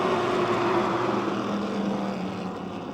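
Napa Street Stocks race cars roaring off at the start of a 25-lap feature at Motordrome Speedway, a dense, steady wall of engine noise that holds loud throughout and eases only slightly at the end.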